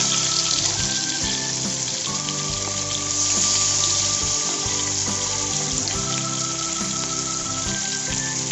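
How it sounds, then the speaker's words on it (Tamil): Marinated fish frying in hot oil for Kerala-style meen pollichathu, a steady dense sizzle and crackle with occasional pops and clinks, continuous and close throughout. "நம்ம மீனை நல்லா வறுத்து எடுத்துக்கலாம்."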